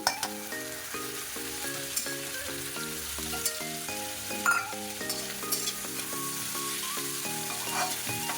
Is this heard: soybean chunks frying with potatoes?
yes